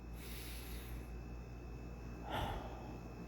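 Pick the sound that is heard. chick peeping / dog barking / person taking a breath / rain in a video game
person taking a breath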